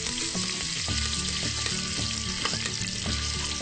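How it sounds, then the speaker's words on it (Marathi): Mustard seeds, cumin, curry leaves and sliced onions fry in hot oil, giving a steady close sizzle with soft crackles and irregular clicks as the mixture is stirred in the pan. "आता आपण ह्याला 5 मिनिटं चांगलं फ्राय करून घ्यायचे"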